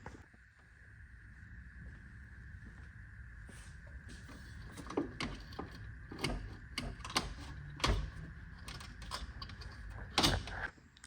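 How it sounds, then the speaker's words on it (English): Radiator fans being pulled out of a Nissan S14 engine bay, with faint creaks, plastic scraping and scattered sharp clicks and knocks, quiet and close. "let me try to pull these fans out"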